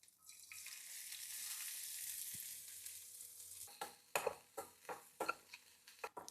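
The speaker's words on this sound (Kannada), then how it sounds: "ಫ್ಲೇವರ್ ಬರಬೇಕು ಅಂತ ಸ್ವಲ್ಪ ಆನಿಯನ್ನ ಸಾಟೆ ಮಾಡ್ತಾ ಇದ್ದೀನಿ" Chopped onions sauté in an oiled pan for a high-protein chicken biryani: a steady hissing sizzle for several seconds, then a quick run of loud spatula scrapes and clatters against the pan.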